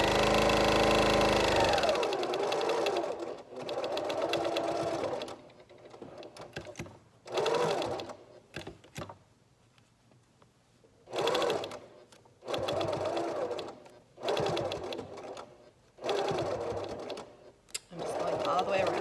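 A sewing machine stitches a fabric face mask with over-the-ear elastic straps, running in several close, loud bursts of rapid mechanical whirring separated by short pauses as it goes back and forth over a corner.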